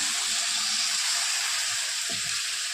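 Water is poured into a hot pan, giving a continuous loud hiss and sizzle with no talking.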